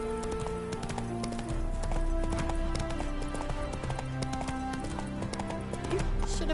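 Hooves of the horse Roach clip-clop steadily in Witcher 3: Wild Hunt, a brisk rhythmic trot close by, layered over game music and ambient sound.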